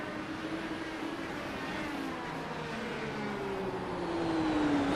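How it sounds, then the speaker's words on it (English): A simulated IndyCar in iRacing at Interlagos rolls at speed through a corner, its steady engine hum quiet and continuous, with the tone easing slightly downward and a faint rise in loudness near the end. "Hear the car roll at speed through the corner."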